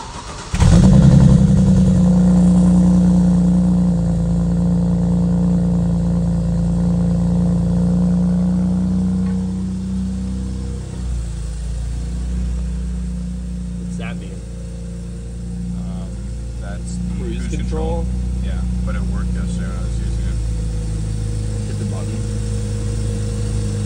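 An N54-swapped 2011 BMW 328i six-speed revs loudly close by, the engine climbing sharply then settling into a steady idle drone, with a voice speaking briefly over it.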